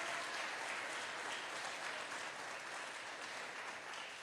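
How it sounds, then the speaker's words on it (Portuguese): A church congregation claps together in steady, dense applause that fills the whole stretch evenly, with no voice rising above it. "Você pode aplaudir a Jesus?"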